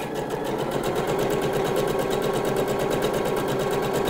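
Steady, continuous whirr of a sewing machine running a line of stitching 2 mm from the fold of a handkerchief hem on a dress, close and even throughout with no talk.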